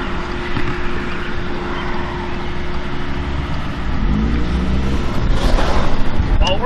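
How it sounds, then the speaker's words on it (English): Steady road traffic rumbles close by, with a car engine droning and revving slightly louder toward the end, as if heard from inside a vehicle. "We're stuck in traffic."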